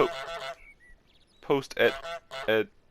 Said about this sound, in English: damn you, Goose, let me talk